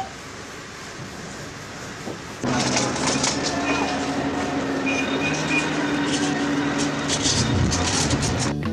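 The Indian Pacific passenger train pulls slowly out of the Port Pirie rail complex, a steady low rumble with wheel squeal and metallic clatter that swells after a quiet start, with talk in the background.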